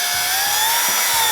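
A cordless drill running forward while its chuck is held to tighten a bit, giving a steady high motor whine that rises slightly in pitch, close and continuous for just over a second.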